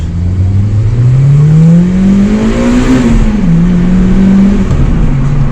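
A stock 2000s Honda Civic Type R EP3 engine drones loudly from inside the cabin, its pitch climbing steadily as it accelerates, dipping briefly at a gear change before rising again.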